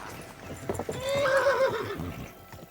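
A horse in the medieval game Kingdom Come: Deliverance II whinnies loudly and close for about a second, its neigh rising and falling after a few soft hoof clops, with no talk over it.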